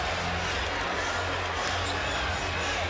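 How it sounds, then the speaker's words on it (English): Crowd noise fills a basketball arena at the 2001 NBA All-Star Game in a dense, steady roar of excited cheering, loud and continuous throughout. "And this crowd is now very much into it."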